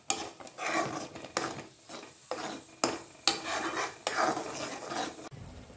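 A spoon scrapes and stirs a thick onion, ginger, garlic, coriander and mint paste in a pan for chicken biryani. The scraping comes in repeated rasping strokes, close and fairly quiet, with no talking.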